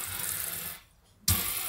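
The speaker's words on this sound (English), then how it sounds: "This is Becky's water coming out of her tap." Filtered water runs from a Triflow tap in a van, a steady broadband hiss of flow that cuts out briefly and then resumes loudly, close to the tap.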